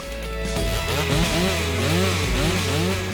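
A STIHL MS 462 C-M chainsaw with a two-stroke 2MIX engine runs loud and close, its engine note rising and falling in repeated revving swells throughout.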